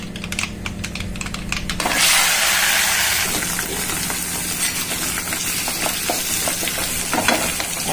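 Mustard seeds, curry leaves, dried red chillies and onion go into hot oil for a tempering, bursting into a loud close sizzle with sharp crackling and popping that then settles into steady frying.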